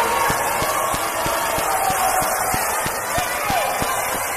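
Volleyball crowd on its feet at the Bob Martinez Center during a Tampa college match: a dense, loud wash of cheering with a steady beat of rhythmic claps or stomps running throughout.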